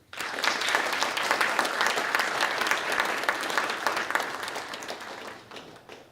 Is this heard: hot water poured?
no